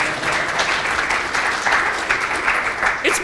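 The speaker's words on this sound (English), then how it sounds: "round of applause everyone here for upgrading your apps" Audience applause at a Ruby programming conference, Ancient City Ruby 2015: a dense, steady wash of many hands clapping together, fairly loud and continuous across the whole stretch with no voices on top.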